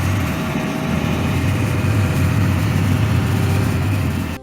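A steady, loud excavator engine drone runs throughout with no breaks, a continuous mechanical rumble close by and no voices.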